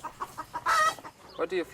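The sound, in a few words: hens clucking on an organic farm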